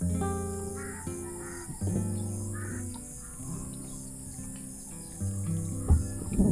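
Several crows caw in scattered bursts against a steady outdoor backdrop with insect hum, the calls coming from a moderate distance, at a campsite in Cavinti, Laguna.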